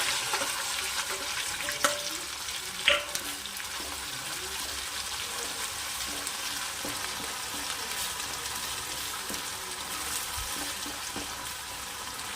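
A thick ground masala paste roasts in a pan for a jackfruit curry, sizzling steadily with a soft constant crackle and a couple of brief utensil clinks early on.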